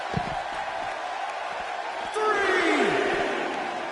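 A crowd in a WWE wrestling video game arena in St. Louis cheers and roars steadily under a commentator's voice, swelling louder near the end with a whooshing effect.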